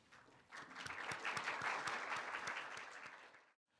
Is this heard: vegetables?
no